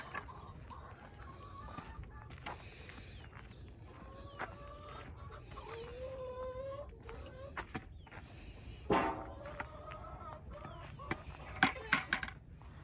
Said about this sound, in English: let's go over here and feed these chickens